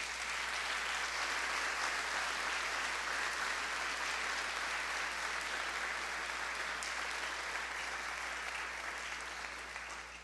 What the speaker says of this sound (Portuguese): Dê um aplauso ao Espírito Santo.